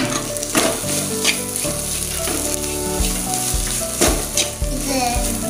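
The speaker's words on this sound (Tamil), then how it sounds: "லைட்டாக இந்த மசாலா ஸ்மெல் போகிற வரைக்கும் குக் பண்ணி எடுத்துக்கலாம்" Potato masala cooks in a pan with a loud, continuous close sizzle and occasional stirring scrapes, no voices over it.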